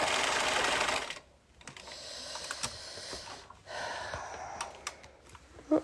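A domestic sewing machine stitching fabric until its bobbin thread runs out, heard as a fast whirring run, then a pause and shorter bursts of stitching with clicks between them, close and clear with no talk.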